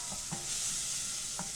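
Quiet stirring of ginger into a simmering lentil and barley soup, a few soft spoon knocks over a steady low hiss.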